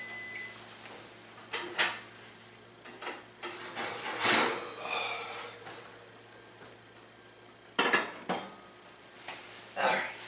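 Hot pots being handled while cooking cheesy scalloped potatoes, with scattered metallic clanks and knocks of cookware at close range, separated by quiet gaps.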